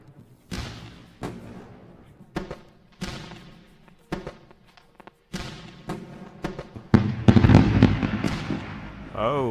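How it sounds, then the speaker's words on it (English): Fireworks sound effect on a livestream: a run of sharp booming bursts, each followed by crackling decay, spaced a second or so apart before a dense, louder volley of pops and bangs near the end. "So let's go with a round of fireworks."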